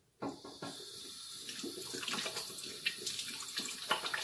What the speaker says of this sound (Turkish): Ellerimi bir yıkayayım.